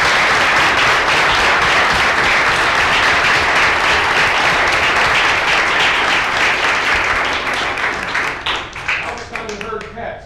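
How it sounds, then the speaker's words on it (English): Loud, sustained applause from an audience at a council meeting, honoring a youth league all-star team, with dense clapping and some voices mixed in before it thins and trails off near the end. "Let's clap."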